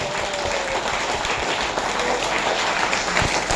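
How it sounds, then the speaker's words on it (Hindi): Loud, dense applause from a large audience at a business seminar, sustained and steady throughout. "एक बार बढ़िया वाली तालियों के साथ"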